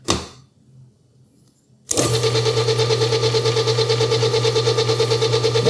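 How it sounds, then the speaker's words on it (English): A Hobart N50 stand mixer motor switches to speed 3 after a short, quieter stretch. It then runs steadily, close up, with a constant whirring hum and an even rhythmic pulse. "So the motor on this sounds really good."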